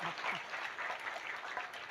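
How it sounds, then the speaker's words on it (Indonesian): Hands clapping from a small gathering at an Islamic tahlil and Yasin recitation event, a soft, fairly distant patter of claps with a faint voice underneath. "Oh iya, tepuk tangan sik ra"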